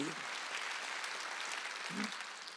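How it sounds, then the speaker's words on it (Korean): A church congregation at a Wednesday worship service claps together in a soft, continuous patter, fairly distant and even, with a brief low murmur of voice near the end. "박수치라"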